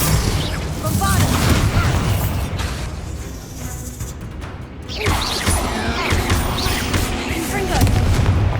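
Bombarda blasting spells from Hogwarts Legacy, heard as loud, dense booms and crashing impacts rolling almost without pause, with a brief lull midway before another burst of blasts.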